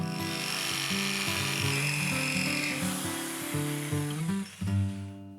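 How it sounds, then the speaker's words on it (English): A jigsaw cuts a curved line through a sheet of 3/4-inch plywood, its motor buzzing steadily and close with shifting pitch as the blade works along the curve, then briefly dipping near the end. "then cuts out the curve with a jigsaw"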